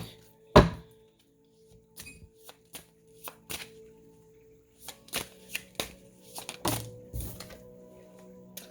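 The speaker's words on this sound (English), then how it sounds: "And you just shuffle these really quick." A dark shadow tarot deck is shuffled quickly, with a sharp riffle burst near the start followed by scattered soft taps and card flicks, quiet and close with no talking.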